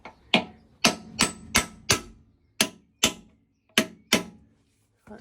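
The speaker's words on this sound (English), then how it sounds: "hammering this one out because it's pretty seized." Hammer blows drive a chisel against a badly seized nut on a Thwaites dumper, about ten sharp metallic strikes in an uneven rhythm, close and loud with brief ringing decay between hits.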